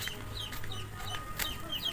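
Backyard farm fowl on a small piggery and fish-pond farm, with soft clucking and chirping calls scattered throughout at moderate distance against a low outdoor background.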